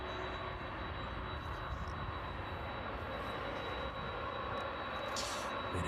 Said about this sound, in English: 767 as it pulls onto stand there. That one arriving in from JFK this evening.